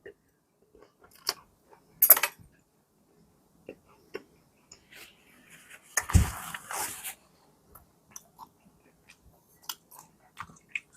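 Someone takes a bite of a sandwich and chews, giving soft, intermittent crunchy mouth sounds with a louder bite burst, close and quiet, broken by brief pauses.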